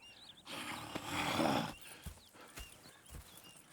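A horse in Red Dead Redemption 2 snorts and neighs up close, followed by a few soft hoof thuds and shuffling, with light ambient noise and no talking.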